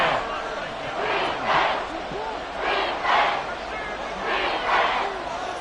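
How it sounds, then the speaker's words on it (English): A video game football stadium crowd swells in repeated waves of cheering ahead of a big third down, loud and broad, with a commentator talking over it. "The crowd getting into it as we come up on a big third down."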